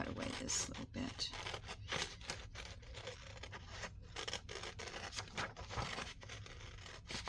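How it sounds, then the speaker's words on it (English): Scissors cutting away a small piece of paper, close crisp snipping and rustling scrapes in quick irregular succession over a constant hiss. "I'm just going to cut away this little bit."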